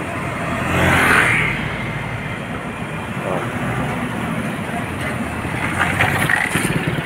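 Road traffic on a highway in Quezon Province toward the Bicol Region near a tire vulcanizing shop, a steady rumble of vehicles passing close by with a louder swell early on and continuous engine and tire noise throughout.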